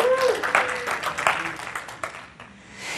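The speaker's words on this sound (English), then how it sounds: "those of you who are clapping" An audience at a church sermon breaks into scattered clapping, loud and close at first and then thinning out over a few seconds, with a voice briefly audible over the applause.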